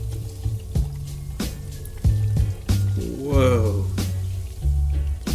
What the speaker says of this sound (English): I showed you a keyboard you can dump water on and wash it.